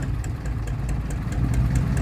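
A Hino 6HE1 diesel truck engine, fitted with a larger 6HL pump, idles steadily with a low, continuous rumble and faint rhythmic ticking on top; no voices.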